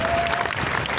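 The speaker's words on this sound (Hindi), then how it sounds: "तालियां बजाओ" Brief burst of crowd applause at a Shyam temple devotional night, a dense, fairly loud patter of many hands clapping together for a moment.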